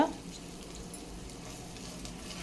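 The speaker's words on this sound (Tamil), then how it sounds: "பூண்டு நல்லா வறுபடணும். அதனால தான் நம்ம கொஞ்சமாக எண்ணெய் சேர்த்துருக்கோம்." Crushed garlic cloves frying in a small amount of oil in a pan, a low, steady soft sizzle throughout, faint and close, with no voices.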